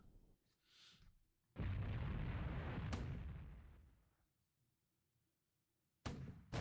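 Deck gun and anti-aircraft gun firing in the naval war game War in the Pacific: a long loud roaring burst that fades over a few seconds, a sharp crack inside it, and another loud burst starting near the end.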